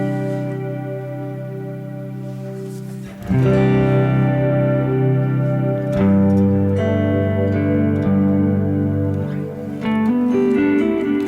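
Electric guitar played through a Strymon BigSky MX reverb pedal with the low-end setting maxed, sustained chords with a long, dense, washing reverb tail, loud and alone.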